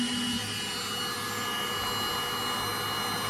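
A heat gun blows steadily at close range while being used on a modified Meross sensor, a continuous even airy roar with a low motor hum that holds for a few seconds without a break.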